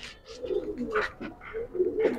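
A domestic pigeon gives a few soft, low, throaty coos at close range, repeated in a short rolling rhythm with no voices over it.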